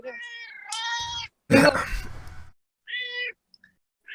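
A cat meows several times, close and loud: a drawn-out yowl, then a harsher strained cry, then a shorter meow, with quiet gaps between them.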